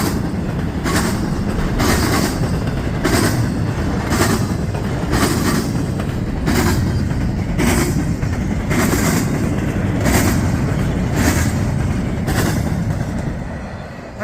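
A short, fast freight train passes close by with loud, continuous rolling rumble and a steady clickety-clack as wheels cross rail joints at regular intervals, sustained for the full stretch.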